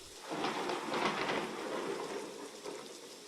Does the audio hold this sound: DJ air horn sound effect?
no